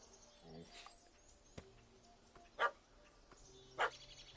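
Dog barks in The Witcher 3 game world, two sharp separate barks a second or so apart over quiet ambient game sound, with faint bird-like calls in the background.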